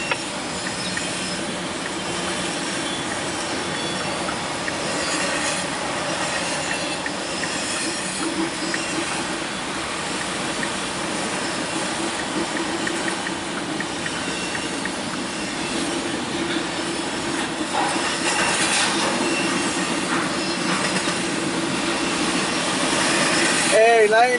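Two CSX freight trains pass close by, a local and a train of empty autorack cars, with a steady loud rumble of wheels on rail, occasional squeal and rising noise near the end.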